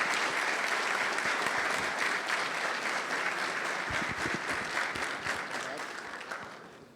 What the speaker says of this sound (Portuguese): Peço que recebam com uma salva de palmas